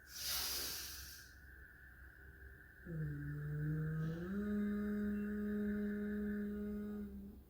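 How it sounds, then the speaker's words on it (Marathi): During bhramari pranayama, a deep inhalation makes a brief breathy hiss. It is followed by a steady, low, close hum that continues for several seconds. "इनहेल, श्वास घ्यायचा आहे."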